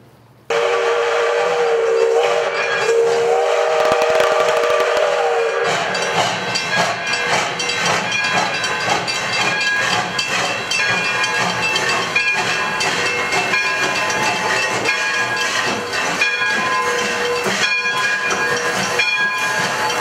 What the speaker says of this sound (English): I see it's almost time for the train to get in